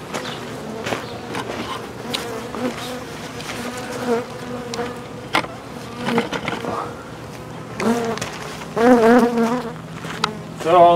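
Honeybees swarming during an open-air beehive removal from a tree, a dense close buzzing drone with individual bees whizzing past the microphone, rising in intensity toward the end.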